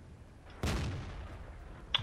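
A single heavy tank cannon blast booms in World of Tanks, fired from a T-34, followed by a rumbling decay and a faint click near the end.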